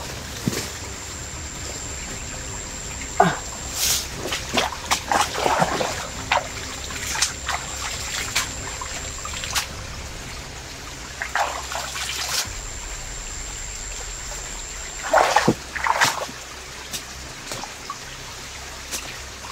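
River water trickles and flows in a video game during rain, a gentle continuous burble broken by louder splashy bursts and drips, with no talking.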